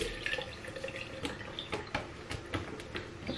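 Water dripping and trickling onto a stained piece of fabric, a series of small irregular drips and light splashes close by over a soft background hiss, with no talk.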